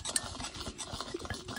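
Spoon stirring a powder mixture in a container, a quiet, close series of quick scraping and light tapping strokes repeated steadily for under two seconds.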